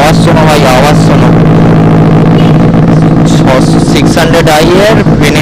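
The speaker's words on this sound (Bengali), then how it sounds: "600i এর Benelli 2N exhaust SC project, আওয়াজ শোনো।" A Benelli 600i motorcycle with an SC Project exhaust idles loud and close with a deep, throbbing burble that never stops. Small rises in pitch come through the rumble, and someone talks over the engine the whole time.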